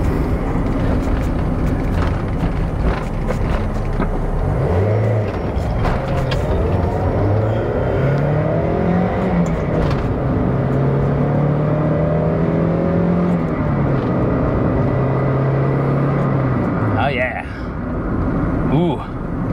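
Mazda Miata engine revving and pulling away after a timing belt and seal job, a steady loud motor drone with rising and falling pitch as it accelerates, continuous throughout with faint talk underneath.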